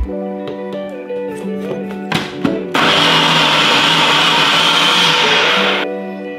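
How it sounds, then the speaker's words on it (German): A blender purées tomatoes for butter chicken sauce. A few clinks and knocks come first, then the motor kicks in with a loud, steady whirring roar for about three seconds before it winds down. "Wir geben alles in einen Mixer."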